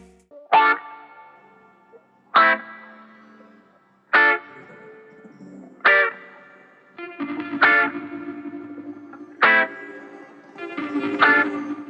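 Electric guitar strikes short, choppy offbeat chords with effects and echo, evenly spaced stabs over a sustained low tone in the later part.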